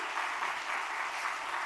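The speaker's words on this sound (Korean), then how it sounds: "하나님께 영광의 박수 한번 올려드리도록 하겠습니다." Audience applause in a church evangelism seminar, a steady, dense wash of many hands clapping at even loudness throughout, with no voices.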